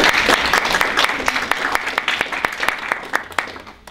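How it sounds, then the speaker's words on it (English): An audience at a literary reading applauds a group of poets, loud close clapping from many hands that gradually thins into scattered claps as it dies down. "we can kind of give you a round of applause because you guys are doing such great work."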